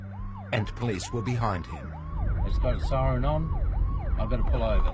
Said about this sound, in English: It's got a siren on